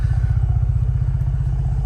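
A Ford Bronco 2.7L with a Flowmaster exhaust and dual tips idles after startup, a loud, deep, rapid pulsing rumble held steady close by.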